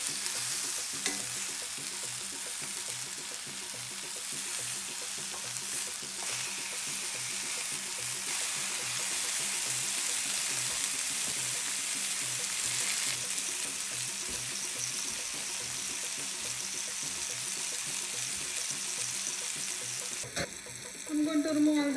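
A bacon-wrapped stuffed potato on skewers fries loudly and continuously in a pan after being flipped, a dense, close sizzle that carries on throughout before a brief clatter near the end.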